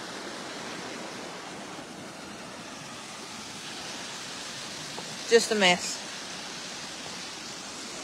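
Floodwater running off a farm field across a washed-out road in Aiken County: a continuous broad rushing roar of flowing water, steady and fairly loud throughout, with a brief burst of talk near the end.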